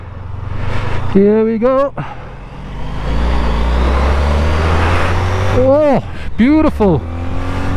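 A Honda ST 1300 motorcycle accelerates hard into traffic toward 70 mph, its engine a steady loud drone with rising pitch, passing vehicles rushing by, and a rider speaking briefly at the start and again near the end.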